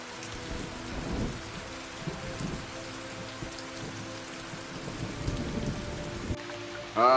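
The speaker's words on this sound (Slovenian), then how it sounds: "Zdajle imamo spet malo težav z dežjem" Steady rain patters on surfaces, with low rumbles underneath, continuous and fairly close, no voices.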